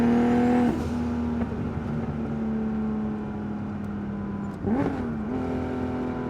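Heavily modified 1,036 WHP Mk.3 Toyota Supra accelerating hard, its engine note climbing loud and steady with a brief shift dip, then a second surge of revs near the end.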